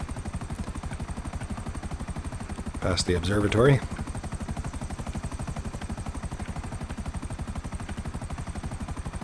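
A helicopter in the video game GTA 5 flies with a steady, rapid rotor thump that runs unbroken from start to end. Someone speaks briefly partway through.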